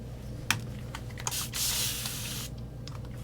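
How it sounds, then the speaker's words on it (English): A short, airy hiss from a spray bottle bursts out for about a second, preceded by a few soft clicks and taps in a quiet room during acrylic painting. "Just the way that spray bottle reverberates through the microphone."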